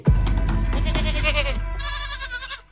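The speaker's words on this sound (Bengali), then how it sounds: "ছাগলটা কতক্ষণ থেকে চিল্লি দিচ্ছে" A goat bleats loudly and close by in a long, wavering cry that breaks into a second higher, quavering call, with no talk over it.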